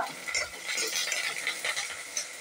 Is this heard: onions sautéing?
yes